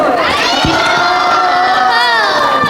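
A crowd of children at a school cultural program shouts a loud chant in unison, close and energetic, with a sustained rising cheer for the whole moment.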